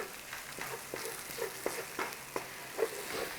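Spices blooming in hot oil in a pan for corned beef curry, a continuous close sizzle with repeated soft stirring scrapes at a steady rhythm.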